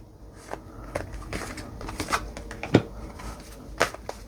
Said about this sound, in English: See, these didn't even want to shuffle.